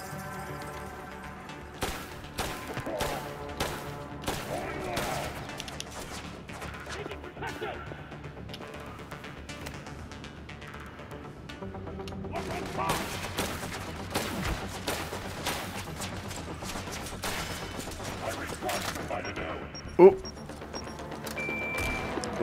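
Rapid gunfire from the PSVR2 shooter Synapse, a steady run of close, sharp shots and impacts during a firefight, heard under frequent speech from a player.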